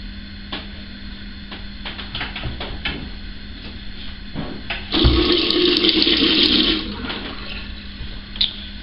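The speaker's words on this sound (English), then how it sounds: "I'll just run the rest of that down the sink." Leftover water rushes down a bathroom sink after a shave, a loud burst of about two seconds in the middle, set against a quiet room with faint clicks and taps before and after.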